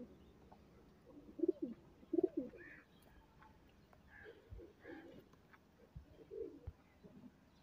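Pigeons coo softly nearby, several low throaty warbles in short separate phrases, with quiet background noise between them.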